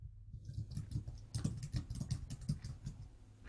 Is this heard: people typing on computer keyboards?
yes